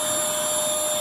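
A purple Bissell Featherweight stick vacuum, model 20334, is used in handheld mode and gives a steady, close, high-pitched motor whine with a constant airy rush.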